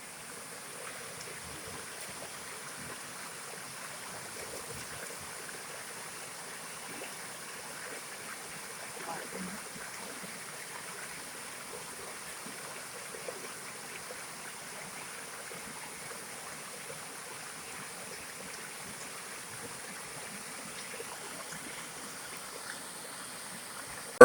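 A small spring-fed tributary flows into a river, giving a steady, soft watery rush with faint trickling that continues evenly throughout.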